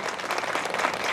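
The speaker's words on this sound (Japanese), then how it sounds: "アンコールの代わりに拍手でお送りください。" An outdoor crowd at a summer festival at the Ishinomori Shotaro memorial hall in Tome claps for a junior wind band, a brief, even wash of applause at moderate volume.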